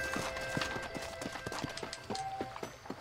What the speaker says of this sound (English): He's coming in with a horse.